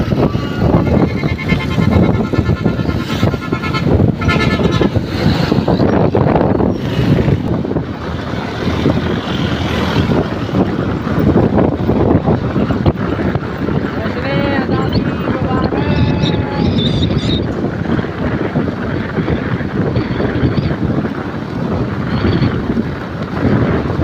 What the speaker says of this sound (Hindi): असी मोटरसाइकिल चला रहे हैं।